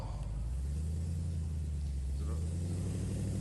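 At an outdoor drag race, a VF Commodore SS and a Mark 6 Golf sit near the line, giving a loud, steady low engine rumble with idling revs and no clear launch burst.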